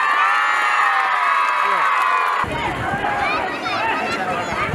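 Students at a school's 67th annual function clapping and cheering, a loud steady crowd roar with shouts and whoops throughout, shifting into a busier, noisier burst halfway through.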